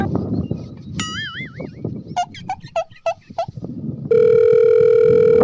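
Background chatter and bird-like chirps give way to a steady, loud electronic telephone tone that holds unbroken for the final second.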